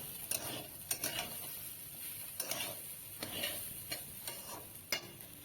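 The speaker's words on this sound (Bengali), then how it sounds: "আরেকটু ঘি দিয়ে নেড়ে নেবো" Khichuri stirred in a pan with ghee, a spoon scraping and knocking softly at irregular intervals over a faint low sizzle, quiet and close.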